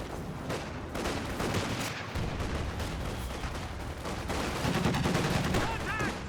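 In Company of Heroes 2 an M15 half-track fires in sustained bursts amid a busy battlefield, rattling gunfire with thuds of other weapons layered over continuous rumble, fairly loud throughout with some voice under the din.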